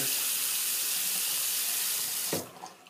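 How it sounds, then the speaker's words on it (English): Running tap water pours steadily into a sink, then stops abruptly, followed by a brief splash of water on a face close by before a shave. "Just put some water on my face"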